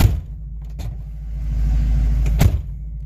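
An old truck engine rumbles at close range with a deep, low idle that swells slightly midway, marked by a couple of sharp knocks or clunks.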